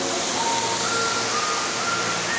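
Benarai waterfall pours in a steady, broad rush of falling water, close and constant, with a faint whistling tone drifting over it.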